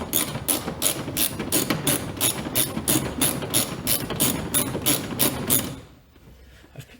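A power tool drives a bolt on a car bumper while it is removed for fitting a tow hitch, giving a loud, rapid run of evenly spaced ratcheting impacts for about six seconds that then stops abruptly, leaving quiet.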